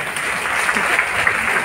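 Audience applause at a Hindi kavi sammelan poetry gathering: dense, steady clapping close by, holding evenly throughout with no voices over it.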